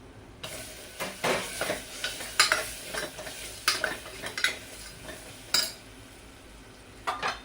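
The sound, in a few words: tomato added and stirred into frying spiced khichdi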